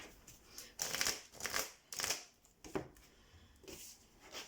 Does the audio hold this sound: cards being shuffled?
yes